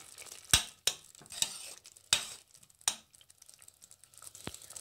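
Cooked rajma curry of red kidney beans stirred in a pot, heard as a handful of sharp, separate scraping clacks of a spoon against the pot at uneven intervals, close and fairly quiet, with no talk.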